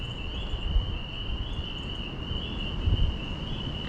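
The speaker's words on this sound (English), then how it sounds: "A dream come true to have a house on the woods that has northern peeper frogs." Northern peeper frogs call in early spring woods beside a house. Their high, continuous chorus keeps up a steady shrill trill throughout, at moderate distance, with faint low rumbles underneath and no talking.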